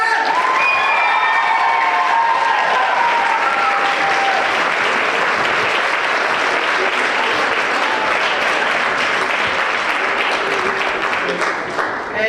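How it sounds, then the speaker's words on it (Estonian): A large audience applauds performers in a long, loud, continuous burst of clapping with some cheering and a few whistles early on, staying strong until a slight fade at the very end. "Teeme suure aplausi kõikidele tänastele esinejatele!"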